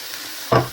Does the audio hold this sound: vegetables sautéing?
yes